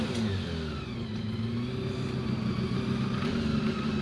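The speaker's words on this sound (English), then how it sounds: "the little V8 engine comprised of two bike engines on a common crankcase" A hillclimb race car at Prescott with a small V8 built from two motorcycle engines on a common crankcase, revving hard with a steady buzzing engine note that runs loud throughout, with no talk.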